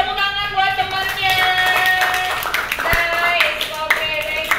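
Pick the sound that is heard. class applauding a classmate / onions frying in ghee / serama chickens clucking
class applauding a classmate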